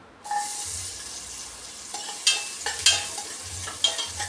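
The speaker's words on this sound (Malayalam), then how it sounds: "നെയ്യ് ഉരുകി കഴിയുമ്പോൾ കുറച്ച് ആവശ്യത്തിനുള്ള ഉള്ളി നമുക്ക് പൊടിച്ച് കോരി മാറ്റാം" Onions frying in melted ghee for egg biryani, a soft steady sizzle with occasional stirring scrapes and clinks of a utensil against the pan, close and moderately quiet.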